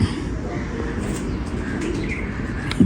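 Pigeons coo softly in a short, low burst against a background murmur, with scattered faint chirps nearby.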